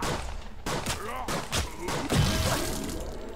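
Shotgun blasts and crashing impacts from a top-down roguelite shooter game, several loud bursts in quick succession with a person talking over them.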